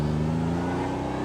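A Ferrari Dino 246 GTS pulls through the gears on the road, a loud steady engine drone with a rising tone heard from close by and no voices.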